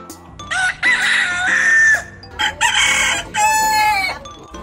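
A rooster crows repeatedly with long drawn-out calls, and domestic chickens cluck around it; several close, loud crows follow one another with short pauses between, and no talking is heard.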